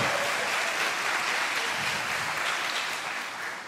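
A church congregation applauding, a dense, steady wash of clapping that holds loud and begins to fade slightly toward the end.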